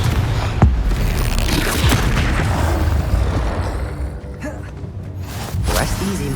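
In the Hogwarts Legacy video game, a Confringo blasting spell goes off as a loud boom with crackling debris and whooshing impacts over dense game noise, followed by quieter rumbling and a further burst near the end.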